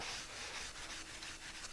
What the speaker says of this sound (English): sanding going with my glove